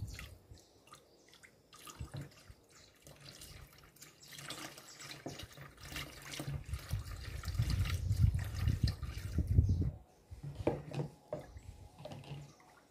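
Homemade liquid soap with pitanga essence is poured and stirred, a liquid swishing and trickling that builds into a fuller watery churn before easing off into a few scattered clinks and drips; fairly quiet and close.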